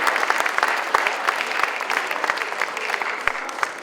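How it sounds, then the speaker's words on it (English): A room of guests at a charity auction fundraiser breaks into steady, lively clapping, a continuous dense patter of many hands with sharper individual claps popping through and faint voices underneath. "Clap it up, folks."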